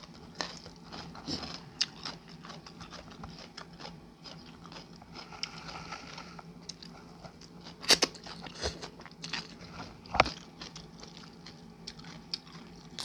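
Mushrooms being bitten and chewed up close, with steady soft crunching and mouth sounds and a few sharper crisp bites standing out, no talking.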